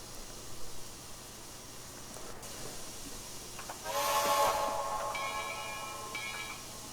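A Russian Decapod 2-10-0 steam locomotive in the Trainz Railroad Simulator game gives a whistle blast with a burst of hissing steam over low engine rumble, then a shorter, fainter second whistle toot.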